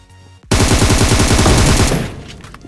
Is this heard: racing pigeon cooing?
no